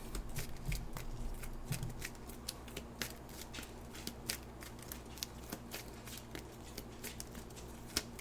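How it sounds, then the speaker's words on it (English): Playing cards being shuffled at a card game of 21: a steady run of crisp, rapid clicks and riffles, close and moderately loud, over a low background hum, with no talking. "tell me when to stop shuffling there, buddy"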